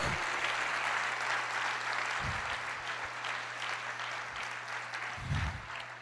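A church congregation claps steadily, a broad even roar of many hands at moderate distance, over a faint low hum, with occasional soft thumps close by.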